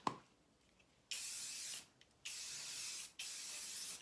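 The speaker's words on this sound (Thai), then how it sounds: "เราใส่สเปรย์" Three long hissing bursts of an aerosol spray, close by, separated by brief pauses, with no talking.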